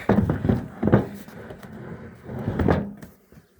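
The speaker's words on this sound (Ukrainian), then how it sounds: "Все, закрив вулика." A wooden beehive being closed at a small apiery, heard as several close knocks and scraping, sliding thumps of the lid and frame parts settling into place, with low handling noise between them.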